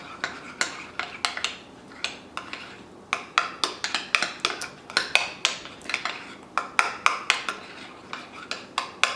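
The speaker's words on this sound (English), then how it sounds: "Now you just want to mix it in." A spoon clinks and scrapes rapidly against a bowl while mixing food coloring into cake batter for rainbow cupcakes, a close, busy run of irregular metallic taps with no talk.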